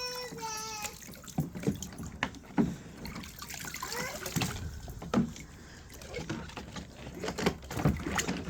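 Children at an outdoor splash table dumping water, with repeated splashes and pours spread across the clip, fairly close, mixed with small voices and chatter.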